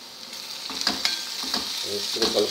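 Softened onions with turmeric and chili powder stirred in a frying pan, a steady moderate sizzle broken by repeated scraping strokes of the spoon.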